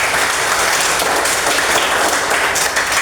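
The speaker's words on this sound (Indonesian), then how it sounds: "Tepuk tangan." Dense, steady applause from a classroom audience of teachers, loud and continuous throughout with no talk over it.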